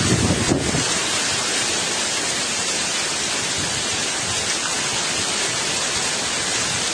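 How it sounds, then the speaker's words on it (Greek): Heavy rain and wind from a summer thunderstorm in Siatista, loud, steady and close, a dense unbroken roar with a brief gust near the start. "Μιλάμε για πολύ βροχή."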